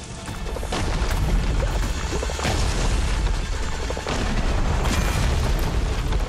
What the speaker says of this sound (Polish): Wybuchło.